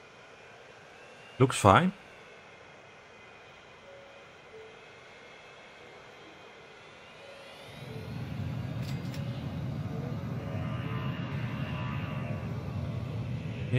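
Aircraft in the city-building game Transport Fever 2, heard as a steady low engine rumble that rises in the second half, with a brief louder burst near the start and a voice speaking briefly.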